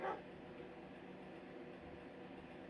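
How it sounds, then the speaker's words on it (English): A dog barks once outdoors at the very start, short and distant, then only a faint, steady room hum remains with no talking. "You hear my dog out there."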